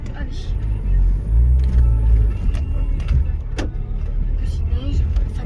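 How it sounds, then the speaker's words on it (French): A car driving on slippery snowy roads gives a deep, steady engine rumble from inside the cabin, with occasional clicks and knocks over the low drone. "vous entendez bien la voiture"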